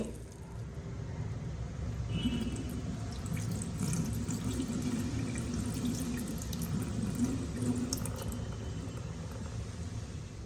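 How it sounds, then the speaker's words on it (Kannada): Toor dal being rinsed with water in a kitchen vessel, a continuous close splashing and running-water wash with a low rumble underneath, no voices. "ಈಗ ಈ ತೊಗರಿ ಬೇಳೆಯನ್ನು ನೀರಾಕಿ ಕ್ಲೀನಾಗಿ ತೊಳ್ಕೊತೀನಿ"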